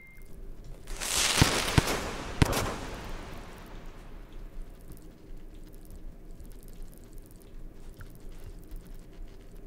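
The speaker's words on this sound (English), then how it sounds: "Explosions will save you." Explosions in the video game Rain World, a loud burst with a couple of sharp cracks early on, then a long fading rumble and quiet ambience.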